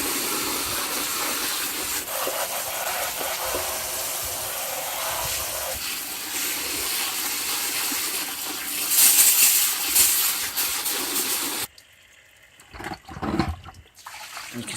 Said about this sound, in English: get a hose on it with tap water